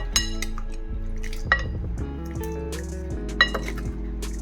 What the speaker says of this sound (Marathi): आता परत एकदा आपण हे मिक्स करून घेऊया.